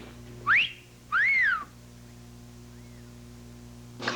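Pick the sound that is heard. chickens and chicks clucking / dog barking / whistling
whistling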